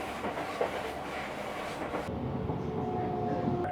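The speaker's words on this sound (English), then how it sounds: "So the train we're on is incredibly empty" Inside a nearly empty moving train, a low rumbling drone mixes with rhythmic wheel clatter, and the hum shifts partway through. No voices stand out.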